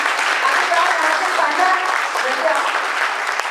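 An audience applauds theatre performers after a staged play, continuous even clapping that fills the room at a loud level from start to finish.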